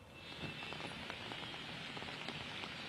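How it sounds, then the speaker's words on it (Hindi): Heavy rain pours steadily in Mumbai during a red alert, a dense continuous patter of drops on surfaces, fairly faint and with no voices. "मुंबई में भी देर रात से काफी ज्यादा तेज बारिश हो रही है"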